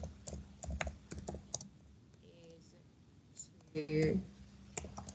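Scattered keystrokes on a computer keyboard in a classroom, irregular clicks in short bursts, mixed with a few brief spoken words and other faint room noises.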